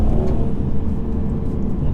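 A 2019 Mercedes C300 with a 2-litre engine pulls under acceleration while driving, a steady loud low engine drone and road rumble filling the cabin throughout, with no talk.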